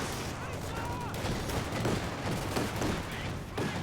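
Rifle fire in a World War II strategy video game battle, cavalry riflemen against assault-rifle-armed Panzer Grenadiers: dense, continuous crackling gunfire with scattered bursts under excited commentary voices.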